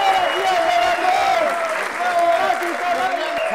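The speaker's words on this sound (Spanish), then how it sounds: "¡Fuerte el aplauso para Javier Díaz Galardo!" Loud, continuous audience applause for a guest at a live comedy show, steady clapping mixed with crowd noise and some cheering, with voices shouting over it throughout.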